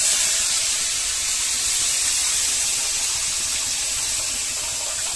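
Tamarind fish curry boiling in a pot, giving a steady, dense bubbling hiss that holds at an even loudness throughout, close up, with no talk.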